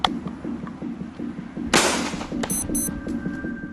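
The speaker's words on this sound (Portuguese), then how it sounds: "Primeiro, o rifle dos soldados. Vamos começar pela primeira salva de tiros." A sudden loud volley of soldiers' rifle fire stands out over steady low rumbling, followed by a few sharper cracks and a faint ringing tone.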